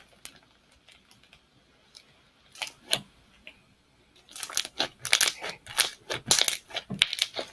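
Pink crunchy slime packed with cut styrofoam pieces is squished by hand, first a few sparse crackles, then a dense run of loud, close crunching pops.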